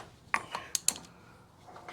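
A giant socket spun on a 1973 ATMX motorcycle clutch gives a few quick, faint metallic ratcheting clicks, spaced irregularly over a quiet background.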